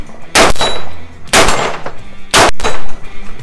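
AR-15 rifle shots, three loud sharp reports about a second apart, close and crisp with short ringing tails and no talk.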